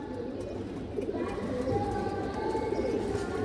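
A steady bed of cooing pigeons of several fancy breeds fills the space, with a murmur of low voices beneath and a faint drone running throughout.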